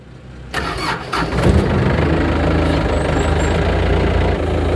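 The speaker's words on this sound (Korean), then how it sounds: "자 일단은 시동을 한번 걸어볼게요." A 2012 Doosan 3-ton forklift with a standard mast cranks briefly and its engine catches, then settles into a loud, steady rumbling idle close by, with no voices.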